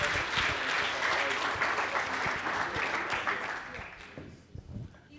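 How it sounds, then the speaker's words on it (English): An audience at a nuclear energy conference applauds a professor being introduced, loud sustained clapping that fades toward the end, with a few voices underneath. "Applause, please."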